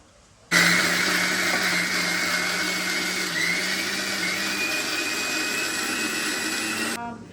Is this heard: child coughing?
no